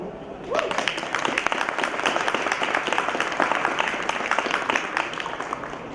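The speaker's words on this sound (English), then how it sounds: "An applause." Audience applause at a design fair, a dense, steady wash of many hands clapping close by and sustained for several seconds, starting a moment in and holding level throughout.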